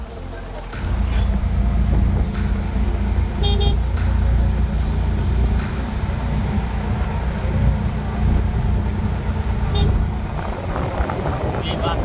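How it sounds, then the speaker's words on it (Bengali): A CNG auto-rickshaw ride toward Banshkhali sea beach in Bangladesh: a loud, steady engine drone and road rumble close up, with occasional horn toots and voices under it. "এখান থেকে একটি সিএনজি রিজার্ভ করে এখন আমি চলে যাচ্ছি বাঁশখালী সমুদ্র সৈকত দেখার জন্য"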